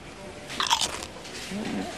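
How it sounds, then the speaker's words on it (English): Crunching eggshells used as a sound effect for eating potato chips: crisp crunching bites, a sharp crackly burst followed by a softer second crunch, close up. "crunching eggshells can be used for someone eating potato chips"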